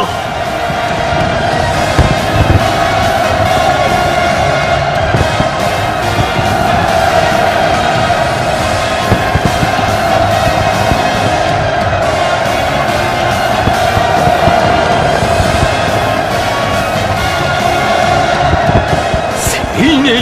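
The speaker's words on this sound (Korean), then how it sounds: "열병광장에 만세의 환호성, 중축의 축포성이" A massed crowd cheers and shouts hurrahs at a North Korean military parade square, a sustained, dense roar held at constant loudness, with a steady tone running underneath.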